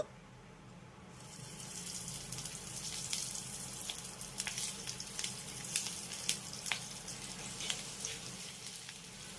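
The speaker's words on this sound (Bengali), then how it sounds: "এবার আমি এক এক করে এই কাঁকরোলগুলোকে ভেজে নেব" Teasel gourds frying one by one in hot oil, a soft steady sizzle with faint crackles and pops, quiet and close, no talk.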